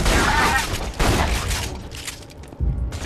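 Enemy gunfire in Borderlands 2 crackles in rapid bursts, loud and close, with heavy booming impacts layered through the dense volley and a short lull before another burst.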